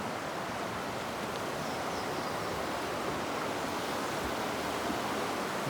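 Steady broadband rush of a river flowing along the Appalachian Trail, continuous and even throughout, with no voices.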